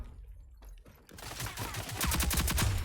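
Gunfire in the shooter game Rogue Company. After a quiet start with a few faint shots, rapid repeated bursts of automatic fire build up and grow loud.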